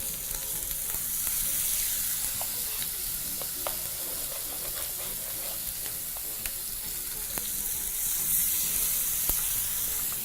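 Mutton chops sear in a hot pan with a steady, close sizzle and crackling spatter that continues evenly, broken by occasional sharper pops.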